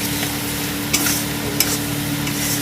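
Spice paste with Kashmiri chilli stirred and fried in a pan for a fish-roe fritter curry: a steady sizzle with a low hum beneath, broken by a couple of sharp spoon scrapes.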